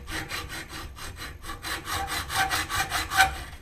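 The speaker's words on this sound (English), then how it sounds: "then we take a hacksaw and we just start cutting straight down" A hacksaw cuts straight down through a small piece of wood for a homemade wooden fidget spinner, making steady rhythmic rasping strokes, close and fairly loud, with no talking.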